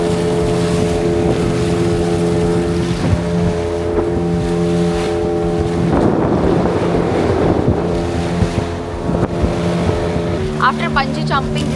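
A motorboat engine drones steadily on the water off Bali, with wind buffeting the microphone and a brief voice near the end.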